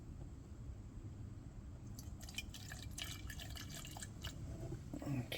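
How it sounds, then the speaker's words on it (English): Petrol trickles and splashes from a container as it is poured into another container, faint at first, then a brief run of liquid pattering and dripping sounds near the end. "I'll pour some gas in there."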